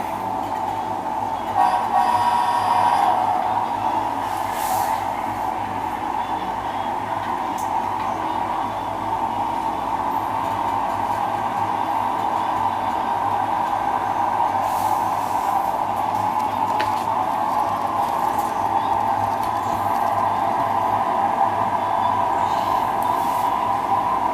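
A steady video-game rumble of a train being shoved slowly along the track, with a continuous mid-pitched drone and faint clanks; no voices.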